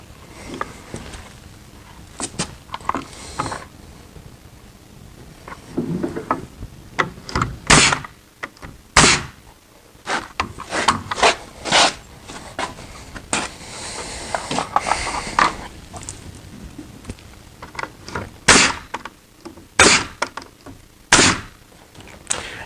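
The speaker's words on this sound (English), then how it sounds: "Now all I got to do is just go through and" Bottom rails of a deck ramp handrail being nailed in place, a long irregular series of sharp, loud impacts, some in quick bursts and others spaced apart, with no talking.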